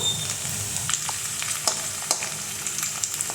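Potatoes frying in a pan as crushed garlic goes in, a steady crackling sizzle dotted with sharp pops and spits throughout, close and with no talk.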